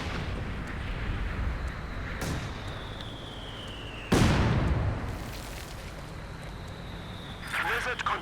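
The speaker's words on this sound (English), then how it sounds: "Bit of mortaring going on here." Mortar fire in the video game Company of Heroes 2: distant booming impacts and a sharp close blast mid-clip, with a descending whistle of incoming shells over a constant rumbling battlefield din.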